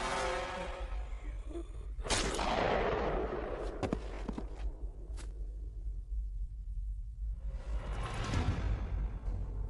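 Sniper gunfire in the video game Metal Gear Solid Philanthropy: two heavy booming shots with rolling rumble, plus a few sharp, thin cracks between them, over a steady low background drone.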